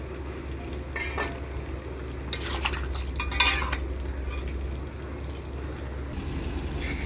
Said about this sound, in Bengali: এটা এখন ঢেকে দিব।